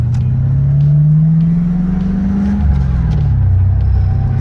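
A 1987 Mitsubishi Starion with an LS1 V8 swap and T-56 gearbox pulls away in first gear, its deep engine note rising loudly, then dropping back to a lower rumble as it moves off close by.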